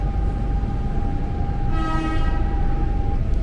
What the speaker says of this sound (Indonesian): ini dia nih si KRL Rangkas Bitungnya langsir